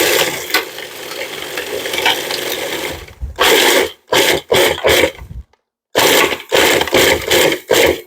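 A food processor pulses strawberry crumble topping with butter, a continuous loud grinding whir followed by a string of short bursts separated by brief silences.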